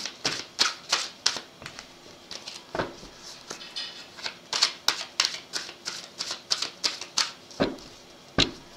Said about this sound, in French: je remélange et puis je vais faire une coupe